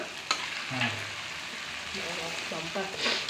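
Chicken frying in oil for Bengali kosha, a steady broadband sizzle with occasional stirring scrapes and spatula knocks. Faint voices murmur underneath.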